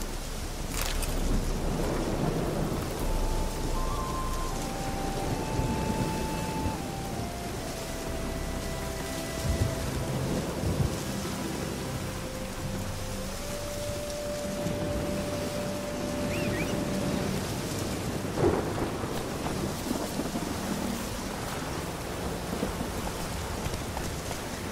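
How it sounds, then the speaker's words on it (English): Thunderstorm in the video game The Witcher 3: Hearts of Stone, steady rain pouring with low rolling thunder and occasional sharper cracks, a sustained dense storm bed with faint tonal game sounds drifting above. "The storm, damn it."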